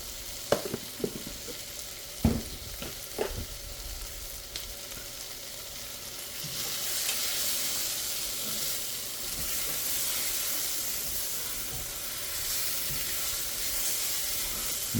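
Cornstarch is sprinkled into a pan of ribeye steak that is already sizzling. A few utensil knocks and clatters come first, then a broad, steady hiss of sizzling fat builds and holds, moderately loud with no talking.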